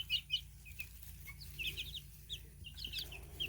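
Chickens cluck in short, scattered bursts with soft wing flaps, fairly quiet against a low background rumble and with no one talking.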